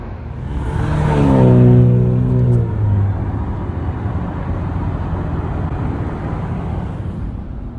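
A 2007 Ford Ranger pickup with a 4.0 V6 and manual transmission drives along a road, its engine rising in pitch through a gear before settling into a steady loud cruise drone with road and wind noise.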